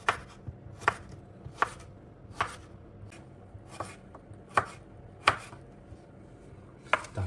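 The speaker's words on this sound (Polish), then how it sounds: "cukinię mam już pokrojoną" A knife chops zucchini on a cutting board while a one-pot summer vegetable dish is prepared, giving crisp, evenly spaced chops about one every three-quarters of a second, close and clear with no talking.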